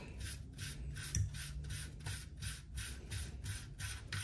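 A muzzle brake being unscrewed from the threaded barrel of a Saiga-pattern rifle gives a regular, rhythmic rasping scrape repeating about every third of a second, close and fairly quiet with no talk.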